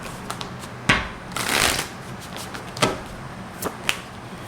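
A deck of tarot cards being shuffled by hand, with crisp riffles and soft slides, a sharp snap near the start and a longer fluttering run in the middle, close and clear with no talk.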